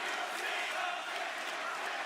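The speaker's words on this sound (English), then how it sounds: "we got the crowd chanting for Cena here" Wrestling crowd at a Survivor Series War Games event chanting for John Cena, a dense, steady roar of many voices filling the arena throughout without a break.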